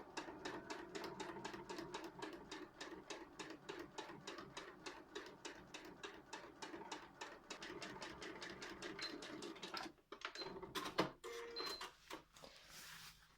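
A sewing machine stitches bias tape down along a garment hem in a fast, even run of needle clatter for about ten seconds, then stops and restarts in short, uneven bursts.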